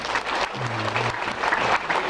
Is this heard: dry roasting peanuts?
no